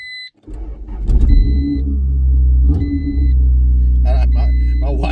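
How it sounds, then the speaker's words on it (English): A 1988 Honda CRX Si is started and left to warm up, its exhaust settling into a steady, loud close-up idle with a few electronic beeps at the start. "we'll listen to the exhaust first"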